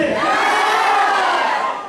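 A large crowd at a stage program shouts back loudly in unison, a sustained roaring cheer of many voices that holds for about two seconds and then drops slightly.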